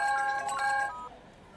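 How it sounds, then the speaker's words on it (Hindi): A mobile phone ringtone in a Hindi film scene: a loud, bright electronic melody of bell-like tones that plays for about a second, then cuts off into a quiet room. "बबलू शेट्टी का फोन है, बात करना।"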